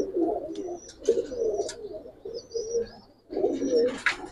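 Giribaz pigeons at a farm coo in repeated low, throaty bursts, close by, with a few faint chirps and rustles between the calls.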